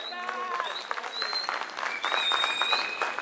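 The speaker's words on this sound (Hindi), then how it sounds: "और तालियां ऐसी ही बजती रहनी चाहिए" Audience applause at a real estate project event with a stage, a steady, fairly close burst of clapping that runs the whole time while a voice speaks over it.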